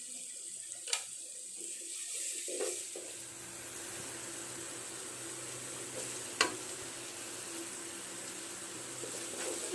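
Coriander powder and garlic fry for biryani in a steady, even sizzle that fills the whole stretch, with a couple of faint clicks of a utensil against the pan.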